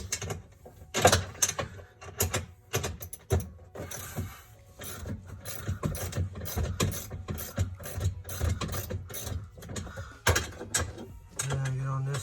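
A quarter-inch drive ratchet clicks in quick uneven runs as it tightens racing seat bolts, close and fairly quiet, with short pauses, clanks of metal and a faint mechanical hum underneath.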